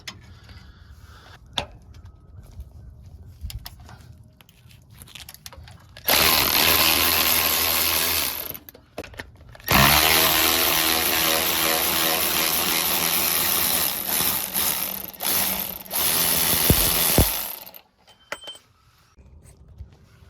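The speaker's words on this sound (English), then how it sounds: "I'm gonna just loosen them and get them with power here in a second" Power tool loosening the 9/16 starter bolts on a square-body truck, two long loud grinding runs separated by a brief pause, close up, with quieter clanks of tools before and after.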